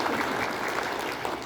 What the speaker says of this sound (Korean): 장영란 박사님께 일 잘하라고 박수 한번 드립니다.